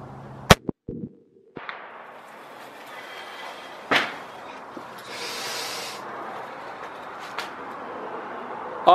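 A 300 Weatherby Magnum rifle fires once at an outdoor target range, a single loud, sharp crack near the start, followed by quieter clanks, rustling and handling noises.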